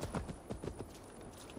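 Horse hooves clip-clopping in Assassin's Creed Valhalla, a quick rhythmic series of close, moderately loud hoof beats with no speech over them.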